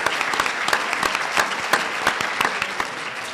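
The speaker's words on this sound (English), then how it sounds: "A round of applause for a stand-up." A room of people gives a round of applause at a conference gathering, with several sharp, prominent nearby claps standing out over a dense wash of clapping and no speech.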